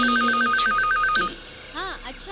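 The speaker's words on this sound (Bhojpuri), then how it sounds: "डॉक्टर मंगला, आपका फोन है।" A telephone rings in a rapid, evenly pulsed electronic trill that stops partway through, and a voice follows with a swooping tonal sound and other noise.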